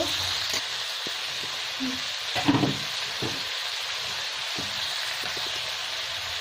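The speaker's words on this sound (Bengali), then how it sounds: "এবার আমি ক্যাপসিকামটা দিয়ে দিলাম আবার দু তিন মিনিট ভালো করে ভেজে নেব" Onions and capsicum frying in a pan give a steady, fairly quiet sizzle. A few soft clinks and knocks from stirring come through, with no talking.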